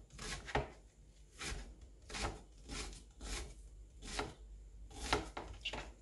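An onion is chopped finely with a knife: quiet, steady, evenly spaced chopping strokes, close by and alone, with no voices.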